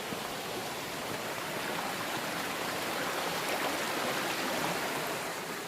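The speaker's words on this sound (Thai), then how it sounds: "น้ำตกสวยมากเลย" Rushing water at Than Ngam waterfall, a stream tumbling over rocks below Phu Foi Lom mountain, gives a steady, dense, broadband roar that holds close and even for the whole stretch with no voices over it.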